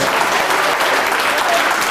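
A large seminar audience claps together in sustained, dense applause that stays loud and even throughout, with a faint murmur of voices mixed in.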